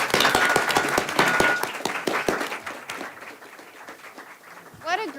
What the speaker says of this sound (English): big round of applause for this panel